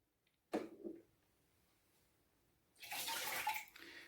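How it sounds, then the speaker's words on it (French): Water leaking from a white Nespresso Krups Inissia espresso machine, heard as a brief splashing burst, then a quiet pause and a louder sustained trickling and splashing, close by with no talking. "Vous voyez la fuite qui est ici?"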